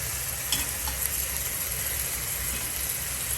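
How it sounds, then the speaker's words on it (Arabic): Pieces of tripe frying with onions in a pan give a steady, close sizzle with faint stirring clicks, loud and continuous with no voices. "بعد ما تقلى البصل معنا شويه، راح نجيب الدواره تاعنا ثاني نديروها فوق البصل"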